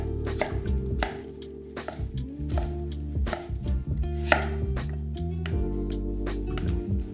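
A knife cuts pumpkin and cauliflower into smaller pieces on a board. Firm, close chopping strokes land in an uneven but steady rhythm, with no talking.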